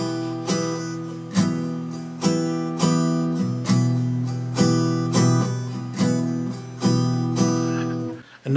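An acoustic guitar strums an eight-stroke pattern for a Hindi song with no muting, with accents on strokes 1, 4 and 6. Bright, full chord strokes repeat in a steady rhythm, played alone and close up.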